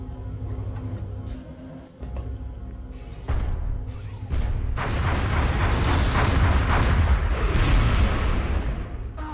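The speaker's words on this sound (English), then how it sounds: "you can shoot with the pistol." Gunfire and heavy booms from a combat mission in the strategy game XCOM: Enemy Within, with pistol shots among loud, dense explosive bursts that build and stay intense throughout, no talking.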